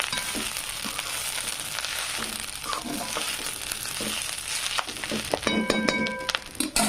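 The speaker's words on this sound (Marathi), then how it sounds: "तर आपण ह्याला तेलात खालीवरून करून घ्यायची" Taravata leafy greens stir-fry in oil with a steady close sizzle, broken by rustling turns of the leaves and light clinks of a spatula against the pan.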